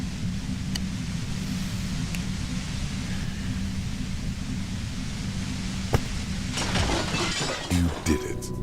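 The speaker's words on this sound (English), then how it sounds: "The compressor lies broken on its side." A shattering crash with heavy breaking noise as a compressor is smashed in the video game Disco Elysium, bursting out late over a steady low droning hum.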